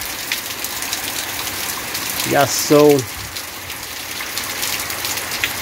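Heavy rain falls without pause in Joaquim Gomes, Alagoas, a steady broadband hiss of drops on surfaces nearby, with a voice briefly speaking over it midway.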